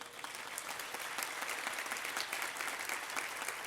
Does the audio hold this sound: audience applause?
yes